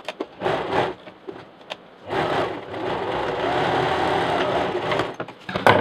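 A sewing machine runs in a steady whirring burst for several seconds, stitching a double zipper box pouch, after a few brief starts and stops at close range.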